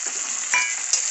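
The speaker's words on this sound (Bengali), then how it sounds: "হলুদটা তেলে দিলে পরে রং হয় বন্ধুরা, তাই আমি হলুদটা তেলে দিলাম।" Turmeric powder sizzles steadily in hot oil while cooking ghutki kachuri, a close, even hiss with a brief swell of crackle near the middle and again near the end.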